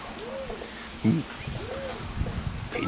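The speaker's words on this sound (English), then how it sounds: "there's a pigeon in our tree" A pigeon coos from a tree during rainy weather, two soft rising-falling coos with a brief thump between, heard close under light rainfall and a nearby voice.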